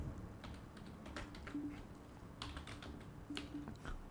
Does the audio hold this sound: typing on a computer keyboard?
yes